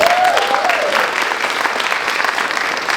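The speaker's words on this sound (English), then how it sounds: "I've made you clap like 7 or 8 times already." A school play audience claps steadily and fairly loudly throughout, a dense sustained round of applause from a full room with a brief whistle near the start.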